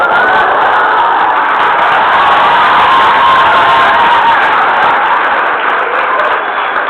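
A loud crowd shouts and cheers continuously, a dense wall of excited voices that stays strong from start to finish.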